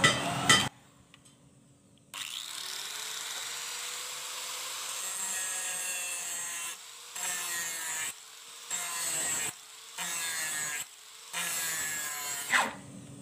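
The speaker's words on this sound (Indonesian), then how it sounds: "kita ratakan dulu lor bilahnya supaya enak membentuknya. Pakai gerinda kasar." Harsh abrasive grinding of a metal knife blade with a coarse grinder, steady and fairly loud, broken by several brief pauses and restarts as the blade is worked.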